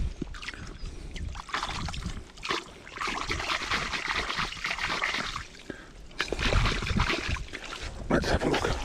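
Water splashing and trickling as a crystal-bearing rock is washed by hand in the Fitzroy River, with steady close-up sloshing and dribbling throughout.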